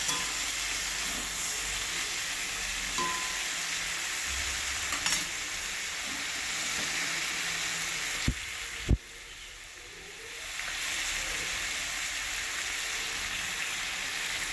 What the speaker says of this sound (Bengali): সবজিগুলো ঢাকনা খুলে আর একবার ভালো করে নেড়ে নিচ্ছি